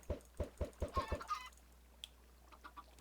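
Chickens cluck in the Minecraft video game, a quick run of six short clucks followed by a longer squawk, then a few fainter clucks and calls trailing off, with no talk over them.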